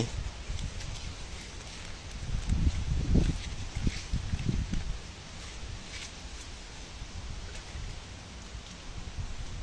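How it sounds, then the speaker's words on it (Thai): Steady rain patters across the whole stretch, with a low rumbling swell of wind or movement near the middle. "ฝนมันตก"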